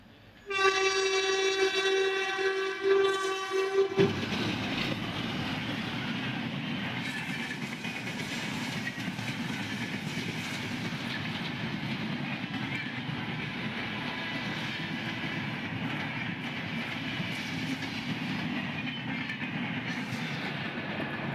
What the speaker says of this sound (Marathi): एक ट्रेन आले